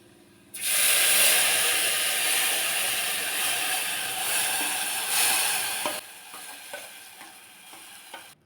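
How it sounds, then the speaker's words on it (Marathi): Curry leaves and spices hit hot oil while tempering a traditional Maharashtrian ambadi leaf vegetable dish, bursting into a loud, close hiss that holds for several seconds, then eases into quieter crackling with a few stirring clicks. "थोडीशी कढीपत्त्याची पानं घातली आणि हे सुद्धा चांगलं कडवून घ्यायचे"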